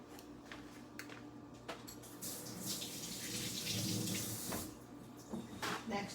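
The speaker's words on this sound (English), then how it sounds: "And I'm going to wash my hands." Hands are washed under a running kitchen tap, with a faint, steady splash of water that swells in the middle and is dotted with small knocks, heard alone.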